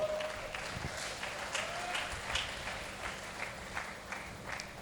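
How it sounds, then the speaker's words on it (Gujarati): An audience at a religious gathering applauds, a continuous patter of many hands clapping at fairly low level, heard from some distance with a faint hum underneath. "હવે તાળી પાડો."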